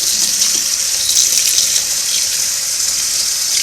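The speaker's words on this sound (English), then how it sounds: "Just rinse in cold water. Get all the cleaner off." Cold tap water running over vintage Singer buttonholer parts to rinse off cleaner, a loud, steady, close gushing hiss from a faucet with no pauses and no talk.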